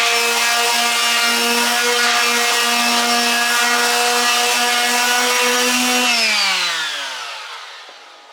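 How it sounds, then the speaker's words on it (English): A small vibrating sander with 800 grit sandpaper smooths raised grain on wood, a steady close high-pitched buzzing whine that holds evenly, then drops in pitch and fades as the sander winds down at the end. "800 grit sandpaper with a little vibrating sander."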